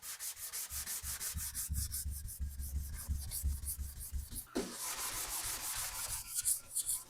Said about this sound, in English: I'm going to sand it with this sanding sponge